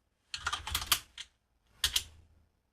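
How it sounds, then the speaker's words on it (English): Someone types a short Linux command on a computer keyboard in two quick bursts of clicky keystrokes, the second a brief tap like pressing enter, with silence between. "This can be accessed by typing raspi-config and pressing enter"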